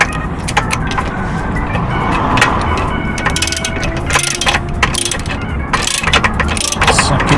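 A 10mm spanner tightens a fitting on a mains hookup, giving rapid ratcheting clicks and metallic clatter in irregular close bursts throughout.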